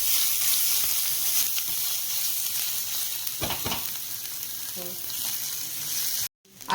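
Finely chopped onion sizzling in hot oil in a pan for paneer snack balls, a loud steady hiss with stirring scrapes, a few brief clatters, and an abrupt cut-off near the end.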